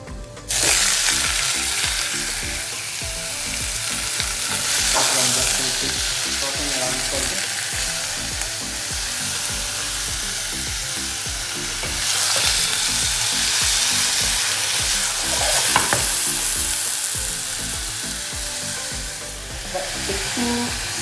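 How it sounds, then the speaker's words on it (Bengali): Green vegetables tip into a hot pan and sizzle steadily in oil, with scraping stir strokes and occasional clatter through the broadband frying hiss; no one speaks. "এটার ভিতরে আমি আমার যে ভেজিটেবলটা আছে সেই ভেজিটেবলটা ঢেলে দেবো"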